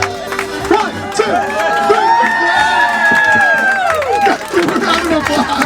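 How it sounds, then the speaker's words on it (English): A street crowd in New York cheers, whoops and claps loudly around a performance, with shouted voices and excited chatter rising and falling throughout. "Round of applause."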